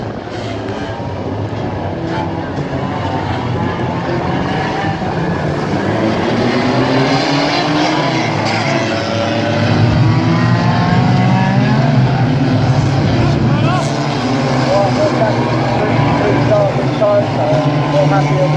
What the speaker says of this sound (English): DMI boat builder, junior Micrastock cars, they go off into action